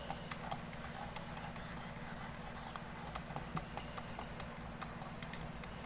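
A Work Sharp Precision Adjust sharpening stone at 600 grit rubs along a knife blade, a faint, steady scraping with soft repeated strokes in a quiet room.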